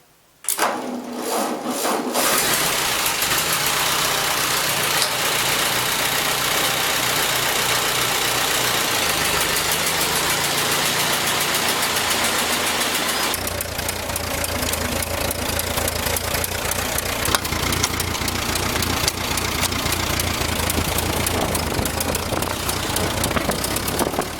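A tractor engine, just fixed for a gas leak, starts after a brief cranking burst and settles into a steady, loud, rough idle with a knocking rattle, changing tone partway through, with no talk over it.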